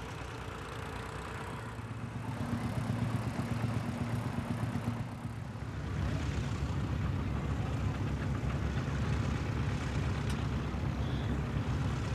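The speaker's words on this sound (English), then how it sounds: "Various tractors are making use of the main field area to show their capability." Tractors working the main field at a steam rally, a continuous low engine drone with a shift in tone partway through, steady and moderately distant with no voices.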